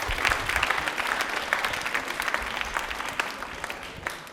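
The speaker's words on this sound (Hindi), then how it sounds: "अशोक, चलिए तालियां अशोक के लिए एक बार जोरदार हो जाए।" Audience at a quiz program on the Prime Minister and central government welfare schemes claps steadily for a contestant, a dense, fairly close burst of applause lasting a few seconds.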